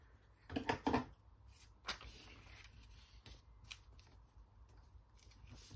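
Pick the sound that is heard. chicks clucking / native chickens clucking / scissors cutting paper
scissors cutting paper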